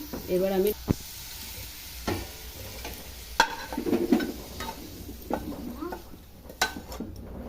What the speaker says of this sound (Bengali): একটু নাড়াচাড়া করে আলুটাকে ভেজে নিব